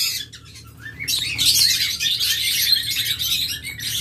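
A pair of large, high-quality pet birds call from their cage in a continuous, busy stream of loud chirps and squawks, with the calling growing denser after the first second.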